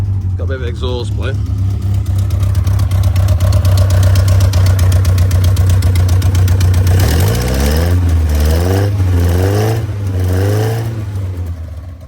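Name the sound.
classic car engine idling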